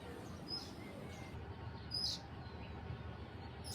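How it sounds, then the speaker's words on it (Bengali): Pigeons call from high overhead, giving a couple of faint, thin chirps far off against a low, steady outdoor background. "ওই যে অনেক উপরে টিপ টিপ টিপ টিপ করতেছে কবুতর"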